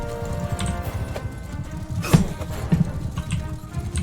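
Horse hooves clop in a quick galloping rhythm amid busy Mount & Blade 2 game sounds, with a couple of sharp metallic sword hits.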